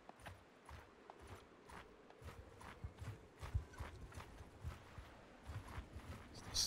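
Horses in Mount & Blade II: Bannerlord clip-clopping along at a walking pace, a steady stream of hoofbeats with no talking over them.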